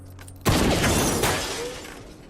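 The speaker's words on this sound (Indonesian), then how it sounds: "Membuat televisi hancur berkeping-keping." A sudden loud shatter as a television is shot, breaking glass and debris in an abrupt crash followed by clattering fragments that fade over a second or two.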